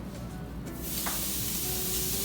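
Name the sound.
food sizzling in hot skillet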